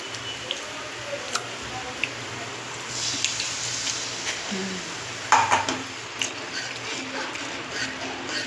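Water poured into a fish curry tadka in a home kitchen pan, with soft squishing, dripping and utensil scraping at low level.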